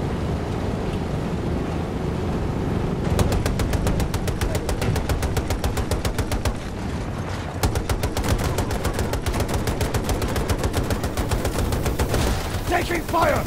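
Rapid automatic gunfire in Battlefield 2042 Breakthrough, loud sustained bursts crackling close by from about three seconds on, over a low battlefield rumble with a brief lull before the shooting resumes.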